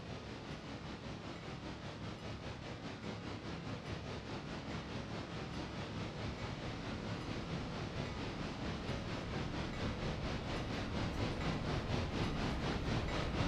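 A train approaches in the Railroader video game, a steady rumble with rhythmic clatter and hiss that grows gradually louder as it nears, with no voices over it.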